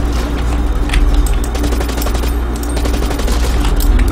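Sustained automatic assault rifle fire in Blacklight Retribution, a loud rapid rattle of shots continuing for several seconds over a constant low rumble, with no talking.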